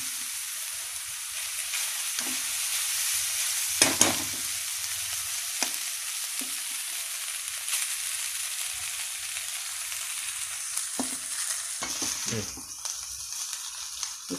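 Idiyappam, string hoppers, stirred and fried in a pan, with a constant bright sizzle and scattered scraping and clanking strokes of the spoon, close and clear, and only stray traces of voice.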